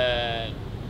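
A sheep on a small farm gives a single loud, steady bleat lasting about half a second, its tone cutting off abruptly into low background rumble.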